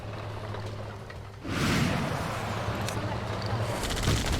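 Gunfire in an online shooter video game, starting abruptly partway through as a dense, loud burst of rapid shots that carries on to the end, mixed with game noise after a low background hum.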